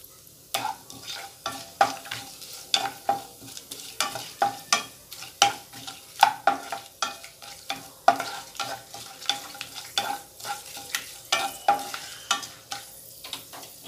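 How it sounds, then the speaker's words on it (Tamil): Whole spices (cinnamon stick, cloves, fennel seeds, bay leaves, star anise and stone flower) frying in hot oil for a Chettinad country-chicken egg curry, with close, steady crackling and sizzling plus frequent sharp pops and stirring scrapes, no talking. "இப்போ நல்லா பொரிஞ்சிருச்சு பட்டை கிராம்பெலாம்."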